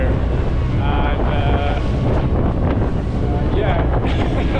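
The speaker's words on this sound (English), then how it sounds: "pretty massive waves just inside the fjord here" Strong wind buffets the microphone over a roaring boat engine and crashing, choppy fjord water at Mølen, Norway, with a voice briefly breaking through the noise.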